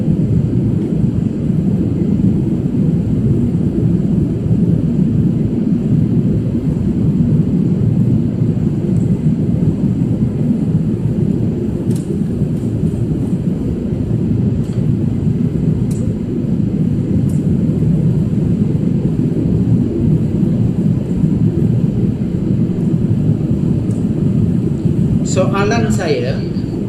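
An airplane flies past as a loud, continuous rumbling roar that holds steady throughout, with a brief rustling burst near the end.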